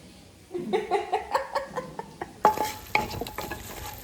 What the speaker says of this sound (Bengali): আমি এই কড়াইটাতেই একটু বাটার দিয়ে আবার পনিরগুলোকে ভেজে নেব